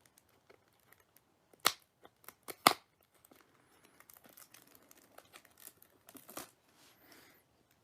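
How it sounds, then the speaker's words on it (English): Plastic seal being peeled off a Magic: The Gathering Ice Age starter deck, heard up close as a few sharp crinkles and tearing snaps followed by softer scattered rustling. "I can just peel off this seal here"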